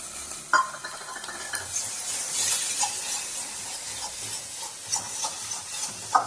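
Onion paste sizzles and fries in a pan for a duck meat curry, with a soft crackling hiss and occasional stirring scrapes up close.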